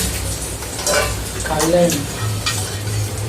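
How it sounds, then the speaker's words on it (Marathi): A half omelette frying in a pan on low heat, a soft sizzle with stirring and scraping sounds, voices talking over it intermittently. "हे बघा असं त्याने हाफ ऑमलेट फ्राय केलं"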